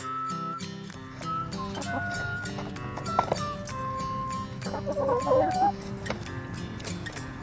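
Several hens cluck and murmur nearby in a chicken coop, with a few louder squawks over a busy low background.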